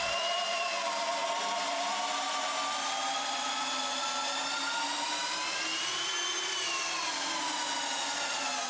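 A Maximum brushless drill from Canadian Tire bores a half-inch hole through wood in low-speed mode, giving a steady, close grinding whir with layered motor tones that holds evenly throughout without pauses.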